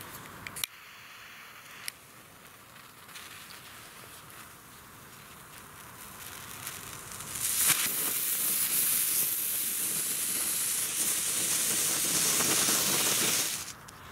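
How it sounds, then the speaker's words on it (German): A dancing cobra fire snake firework burns with a steady loud hiss and spray that swells after a few seconds and cuts off near the end, preceded by faint clicks. "Jetzt die tanzende Cobra-Feuerschlange."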